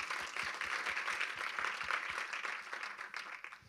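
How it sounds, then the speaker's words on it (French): Applause from a seated audience at a French advertising industry awards event, a steady sustained patter of many hands clapping at moderate, even loudness throughout, fading slightly at the end. "Oui, vous pouvez applaudir"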